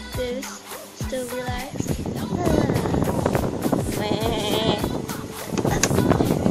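Sheep bleat in a few short, wavering calls near the start, then several more overlap amid scuffling and outdoor noise, with a faint voice in the background.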